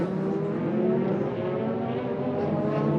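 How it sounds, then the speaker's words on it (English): Prototype race car engines start up and idle during 2018 Rolex 24 at Daytona qualifying, a dense, steady engine roar that stays loud and continuous throughout, with no talk. "the first engines bark into life, and about a dozen, maybe more, prototypes are heading out immediately"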